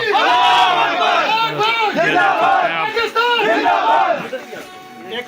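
A group of Pakistani soldiers chants patriotic army slogans in unison, loud and close, with rhythmic rising and falling shouts repeating throughout before tapering off near the end.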